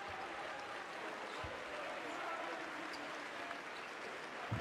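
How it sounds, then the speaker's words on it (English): An arena crowd at a Reyer Venezia versus PAOK basketball game applauds a player at the free-throw line, a faint, continuous wash of clapping heard from a distance. "The crowd applaud, trying to give him some confidence from the line"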